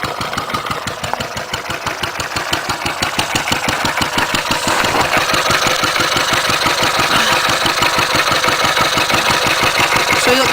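A Wolseley WD8 stationary engine chugs steadily with rapid, even firing beats as its fuel is turned off, the loud running carrying on without a break throughout.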